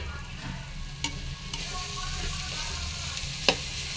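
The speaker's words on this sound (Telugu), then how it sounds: "బాగా వేగిందండి, అన్నీ బాగా వేగినాయి" Prawn shells fry in a pan, a dense continuous sizzle close up with a couple of sharp stirring clinks.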